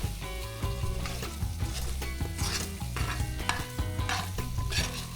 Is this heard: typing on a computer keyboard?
no